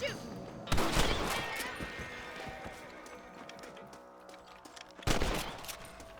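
Gunfire rings out in the video game Red Dead Redemption while shooting rabbits, with a loud rifle report followed by a long rolling echo and a second sharp shot near the end, over faint outdoor game ambience.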